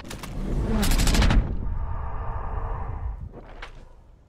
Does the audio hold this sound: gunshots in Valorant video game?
yes